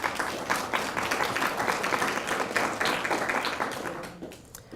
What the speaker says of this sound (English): So please, a hand of applause for our supporters.